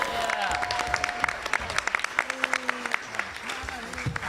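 A convention audience breaks into sustained applause and cheering, dense clapping and shouts filling the hall while a voice carries over the crowd.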